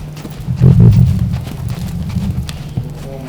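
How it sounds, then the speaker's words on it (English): Horse hooves clop on the ground in a quick, light jogging rhythm during a Western halter class, fairly close, with some low rumbling in the background. "the horse will begin to jog"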